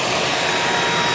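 A Patriot P3 unit runs with its filter fitted, giving a loud, steady, close broadband whoosh of rushing air with no change over the moment.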